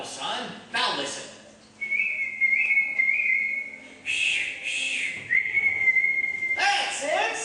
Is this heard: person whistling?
yes